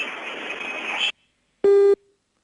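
A steady hissing phone line tone cuts out abruptly as a call disconnects, then after a brief silence a single loud flat electronic beep sounds.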